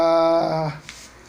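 A puppy just over a month old lets out one short, high, tonal whimper up close, then falls quiet.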